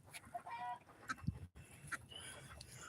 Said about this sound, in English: that is a rooster chasing a hen right there